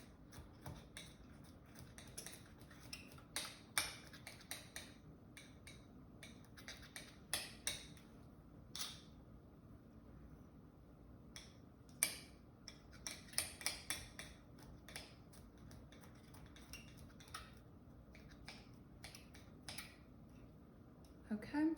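A knife minces garlic on a cutting board in quick, irregular taps and clicks that come in bunches, faint and close, with quiet pauses between them.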